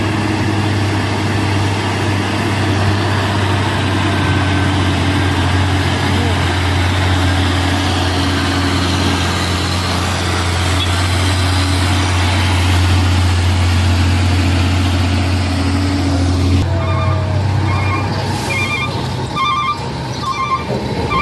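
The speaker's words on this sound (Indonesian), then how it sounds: "ada 2 truk dam" Loud, steady rumble of heavy dump truck engines, including a Hino, laboring continuously uphill, with a shift in tone near the end and faint beeping.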